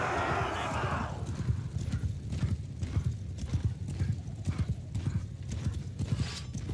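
Horse hooves clip-clop steadily as horse archers advance in a fantasy battle video game, the rhythmic hoofbeats dense and close under brief shouted commands.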